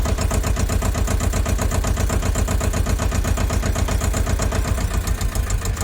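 A mini tractor engine chugs steadily at close range, a loud, even, rapid thumping that holds without pause.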